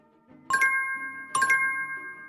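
A bell signals the end of a timed work sprint with two clear, bright chimes about a second apart. Each strike rings out and then decays over a faint background hum.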